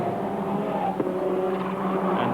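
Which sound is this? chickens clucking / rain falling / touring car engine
touring car engine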